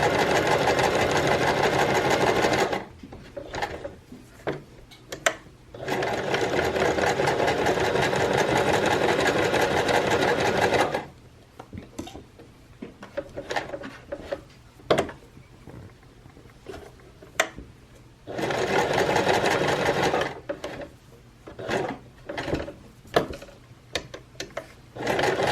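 A domestic sewing machine runs in three steady bursts stitching a fabric seam for a frog bean bag, its loud whirring motor broken by short pauses and small clicks, with no voices.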